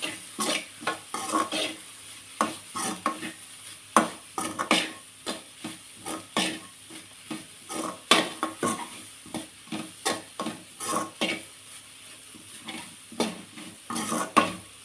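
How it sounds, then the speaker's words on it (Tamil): Grated coconut is stirred into a carrot burfi mixture in a pan: a brisk, continuous run of close spoon scrapes and knocks over a light sizzle, with no talking. "ரெண்டு நிமிஷத்துக்கு நம்ம இது மாதிரி நல்லா வந்து கிளறி விட்டுக்கலாம்"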